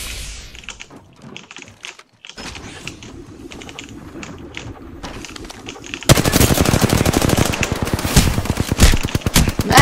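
Sustained rapid fire from a Spitfire light machine gun in the game Apex Legends, quieter scattered shots at first, then a loud unbroken stream of rounds that keeps going without a pause to reload.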